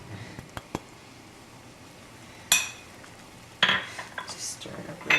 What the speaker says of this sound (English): Just stir it up really nice.